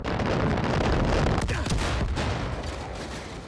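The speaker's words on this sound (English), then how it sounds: "Oh, that's a mortar. That's a mortar." Dense, heavy mortar explosions in Far Cry 5 rumble and crack in a continuous barrage, loud and close, gradually easing off toward the end.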